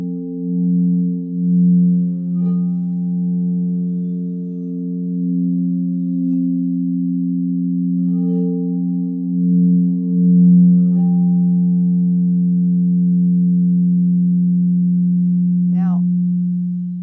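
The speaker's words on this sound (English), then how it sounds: "you go back, re-droning that bowl and releasing it" A singing bowl drones with a deep, sustained hum that swells and pulses in waves, ringing steadily and continuously with faint taps along the way.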